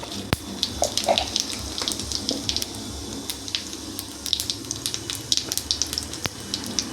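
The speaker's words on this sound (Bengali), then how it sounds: "এবার এই তেঁতুলটাকে আমি জল করে নিয়েছি। এই দেখুন, এই জলটাকেই দিয়ে দেব।" Tamarind water poured into a hot pan of vegetarian curry spiced with dried red chillies, five-spice and cumin, giving a close, continuous splashing and sizzling wash with small crackles and no talking.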